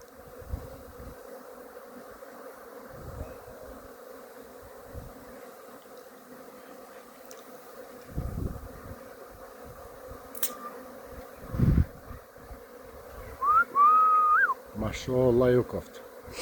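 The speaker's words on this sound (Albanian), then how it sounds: "Bletët mas shiot." Honeybees hum steadily around their hive after two days of rain, a soft continuous drone with louder buzzes as individual bees pass close, plus a few other brief sounds near the end.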